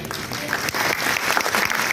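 Audience applause at a Kannada comedy stage show, a brief burst of steady clapping from a crowd filling the hall.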